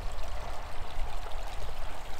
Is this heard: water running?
yes